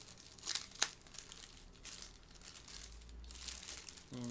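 Close, crisp crinkling of a thin antistatic plastic bag holding an SSD being handled and opened, with sharp rustling bursts and quieter stretches between.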